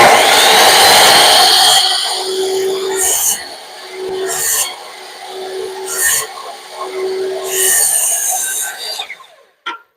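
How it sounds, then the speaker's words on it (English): A miter saw cuts a wooden casing piece for a boxed wall opening, a loud, close burst of high whining noise lasting about two seconds, followed by quieter intermittent clatter and tool sounds. "I'm gonna cut that piece and shoot it in place. So I'm placing it on my miter saw."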